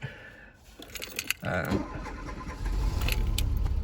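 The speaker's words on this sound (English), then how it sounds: "And we'll see if she'll hot start." A hot carburetor engine on a French car is cranked after running a while, with keys jangling and clicks before a low engine rumble builds toward idle in the final seconds, under faint background noise.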